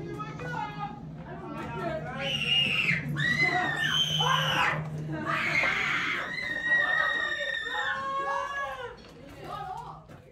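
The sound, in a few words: people screaming in a haunted house attraction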